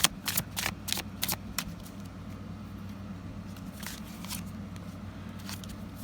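A deck of cards shuffled close up, several crisp riffling bursts in the first two seconds, then faint scattered rustles over low room hum with no talking.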